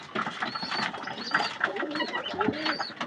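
Pigeons in a loft with a lakkha (fantail) pigeon and young squabs coo softly in overlapping, low throaty calls against a busy, scratchy background.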